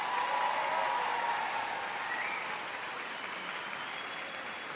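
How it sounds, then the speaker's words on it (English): Audience applause at the Crufts dog show, a broad steady wash of clapping that starts full and gradually thins and fades over several seconds, with no talk over it. "I think they deserve one more round of applause, don't you?"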